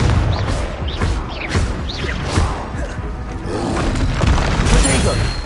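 Fiery spell explosions in a wizarding action game, booming blasts with crackling debris over a dense battle din, continuous and loud.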